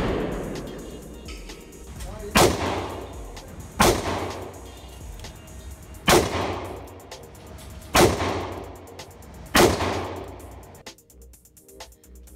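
Five loud gunshots from a Smith & Wesson J-frame revolver, fired one at a time with about a second and a half between them, each a sharp crack followed by a short echo outdoors.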